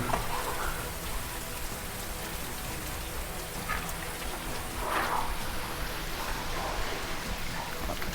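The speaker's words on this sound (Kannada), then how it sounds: "ಆಲ್ಮೋಸ್ಟ್ ಇಲ್ಲಿ ಫುಲ್ಲು ಮಳೆ ಇದು ಈ ಥರ" Steady, heavy rain pours down at Manjarabad Fort in a dense, unbroken hiss, with a few louder splashes standing out now and then.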